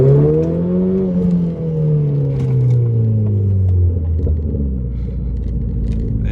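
A Renault Clio RS pulls hard under acceleration from inside the car, its engine note a loud steady drone that climbs in pitch then drops back as it shifts, with no talk over it.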